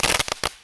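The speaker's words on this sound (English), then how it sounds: "there is the crackling ball firework, and let's see how good this one is" A crackling ball firework going off outdoors before the Fourth of July, a quick cluster of three loud sharp crackling bursts close by, fading into a brief tail.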